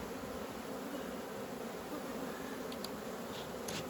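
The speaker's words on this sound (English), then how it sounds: "Stirred up these bees." Agitated honey bees buzz around a hive during the making of nucleus colonies, a faint but constant drone running throughout with no voices.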